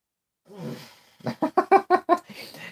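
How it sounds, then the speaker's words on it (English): One person sneezes in a rapid attack, a breathy intake followed by a burst of about six quick, sharp sneezes in a row, then a softer exhale, close and otherwise quiet. "He's having a sneezing attack over here."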